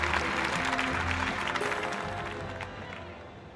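Stadium crowd applauding in the London 2012 archery video game, dense sustained clapping and cheering that fades gradually toward the end.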